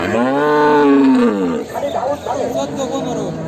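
A four-tooth milking cow at the Chandaikona cattle market in Sirajganj lets out one loud, drawn-out moo close by, then market voices and chatter continue in the background.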